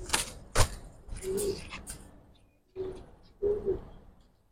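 Soft, low coos from Giribaz pigeons in a loft come in three short bursts, with a few quiet knocks and rustles in between, all fairly faint.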